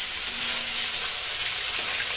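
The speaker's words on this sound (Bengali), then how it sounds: "আমাদের মাছটা প্রায় ভাজা হয়ে গেল।" Tilapia fish fries in mustard oil in a pan, giving a steady, close, even sizzling hiss with no talk.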